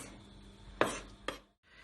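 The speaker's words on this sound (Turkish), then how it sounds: "Kapya biberlerimizin tamamını çekirdeklerini ayıtlayarak böyle doğrayacağız." A knife chops seeded red kapya peppers on a cutting board, with two sharp close cuts spaced about half a second apart over a quiet kitchen background.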